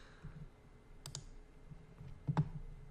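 A handful of faint, crisp computer mouse clicks, spaced irregularly over a quiet background while working in load-flow software.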